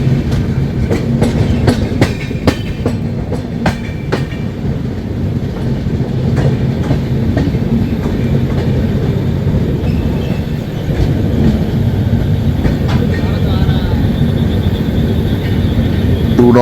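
The 12881 Puri Garib Rath SF Express, heard from on board, runs along the rails with a loud, steady rumble and repeated clickety-clack of wheels over rail joints throughout.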